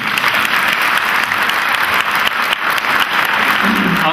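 Audience applause at a live comedy show during a festival in Frankfurt, steady loud clapping from a crowd that carries on throughout.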